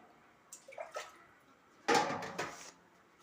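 Water is poured into a pot of rice in a home kitchen, a few short splashes and then a longer, louder pour, close by and with no talk over it.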